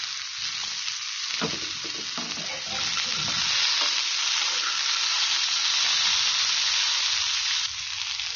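Beans, cauliflower and potatoes sizzle loudly in a frying pan while being stirred, a steady close hiss with busy scraping and clatter early on, then a more even sizzle.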